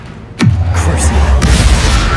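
A single deep spell explosion from the Hogwarts Legacy video game bursts in abruptly, then its low boom and crackling debris roll on loudly to the end.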